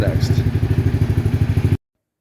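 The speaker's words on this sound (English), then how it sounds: "So I'm going to let it sit here and idle for about maybe 5 minutes, warm up" A 2022 XPro X24 250cc motorcycle engine idles close by with a steady, rapid low thumping pulse, then cuts off abruptly to silence after less than two seconds.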